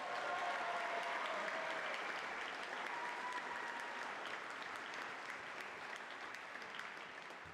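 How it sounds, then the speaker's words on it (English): A crowd applauds ice climbing class participants at the Michigan Ice Fest, a continuous patter of many hands heard from a distance that slowly tapers off. "Big round of applause for these guys."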